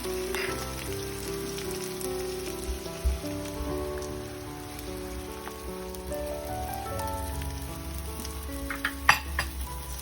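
Beaten eggs sizzle steadily in a pan over onions, bell pepper and salted herring for a Caribbean omelet, a continuous soft crackle with a few louder pops, close and alone without talk.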